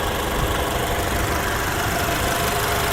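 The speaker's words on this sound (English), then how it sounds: "This has a 2-liter turbocharged 4-cylinder." A 2023 Alfa Romeo Giulia Estrema with a 2-liter turbocharged four-cylinder engine idles with a steady, even rumble and slight mechanical clatter, heard up close with the engine bay open.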